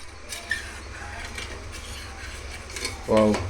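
A spatula scrapes a burnt pot in boiling water with soft, repeated grating strokes over a steady bubbling background, ending in a brief metallic clink.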